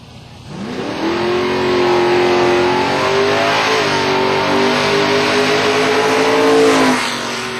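A 1989 Mustang race car at Silver Dollar Raceway revs hard and close, its engine pitch climbing and holding in a loud sustained wail before easing off near the end.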